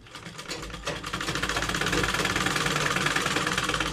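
Sewing machine running steadily while stitching a hidden pocket into a salwar, a fast continuous mechanical whir and rapid needle rhythm, loud and close with no talk.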